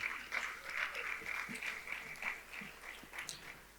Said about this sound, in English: So give her a round of applause.